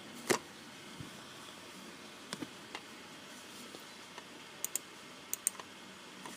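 Computer mouse clicks on an airline booking site, a handful of sharp, faint taps scattered irregularly over a quiet background hum, no one speaking.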